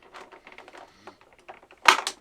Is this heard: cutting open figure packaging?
yes